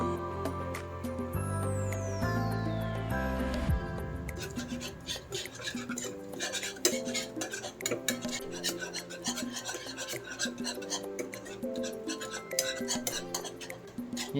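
A spoon scrapes and stirs a cheesy sauce made with all-purpose cream in a pan, for a cheesy baked milkfish dish, with steady rasping strokes over continuous background music.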